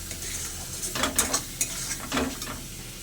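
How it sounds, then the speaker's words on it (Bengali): Tomato paste and spice masala fry in oil for an echor and prawn curry, with a steady low sizzle broken by several scraping stirs of a spatula against the pan, close and fairly quiet. "টমেটোর পেস্ট আর মশলাটা আরও ভালো করে আমি কষে নেব যতক্ষণ গন্ধটা তেল না ছাড়ে"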